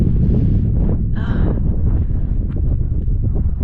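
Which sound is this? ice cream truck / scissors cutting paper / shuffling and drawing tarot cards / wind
wind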